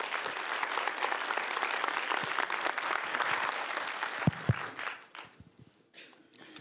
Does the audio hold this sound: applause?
yes